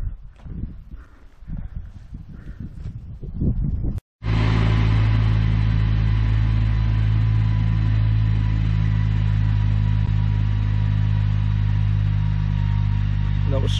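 A car engine labours up a hill near the village of Woodmancote, droning loud and steady for about ten seconds after a brief stretch of talk and a sudden cut.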